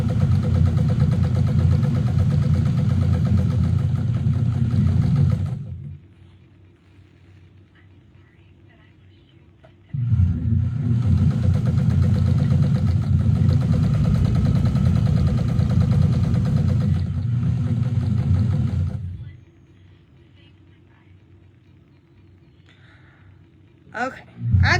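A quilting sewing machine runs fast in two sustained bursts with a steady, humming drone, followed by quiet stretches.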